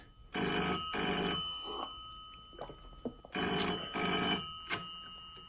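A telephone bell rings in two double bursts, loud and close, with a short quiet gap and a faint click or movement between them, set in a radio audio drama.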